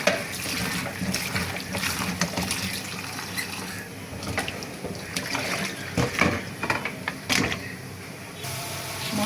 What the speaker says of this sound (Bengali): এখানে কাঁকরোল আর আলুগুলো ধুয়ে নিচ্ছি।